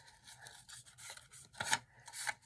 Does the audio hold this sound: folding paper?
yes